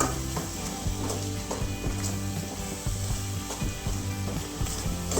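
Spice masala for a village-style brinjal curry frying in oil over low gas, a soft steady sizzle with repeated scraping and stirring knocks of a spoon against the pan, close by.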